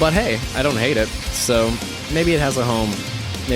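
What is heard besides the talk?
No distinct noise like a dog, phone or traffic.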